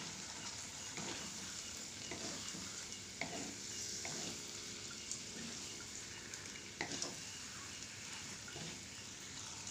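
Tough duck meat frying in a pan for duck rendang, a quiet continuous sizzle with occasional soft stirring scrapes and knocks, fairly faint and steady.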